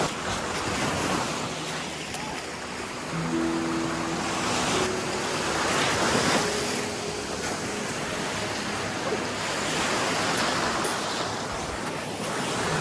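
Steady rushing water noise from a creek on a Southern Ontario trail fills the whole stretch, a continuous broadband wash, with a faint low hum briefly rising beneath it.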